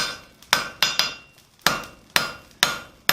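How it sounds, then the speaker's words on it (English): A hammer strikes steel stock being forged down for a coal shovel, about eight loud, ringing, close blows in an uneven rhythm, each decaying quickly, with no talking. "we're going to use that to forge down what we need"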